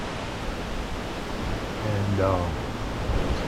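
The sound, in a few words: wind blowing against a house during Hurricane Ian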